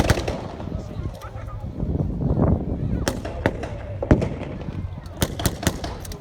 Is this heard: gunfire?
yes